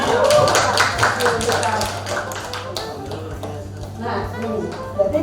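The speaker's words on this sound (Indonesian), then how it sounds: "Luar biasa, tepuk tangan." Applause from teachers at a school training session on positive school culture, a dense run of claps with a steady hum underneath and voices mixed in.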